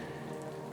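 Rain patters evenly onto ferns and wildflowers in a small woodland clearing, a brief, continuous soft hiss of drops with no voices.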